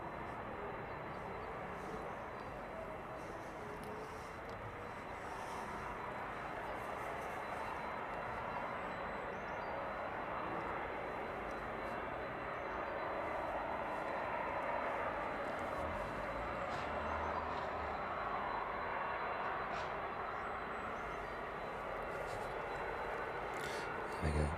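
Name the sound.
Boeing 767 airliner passing close by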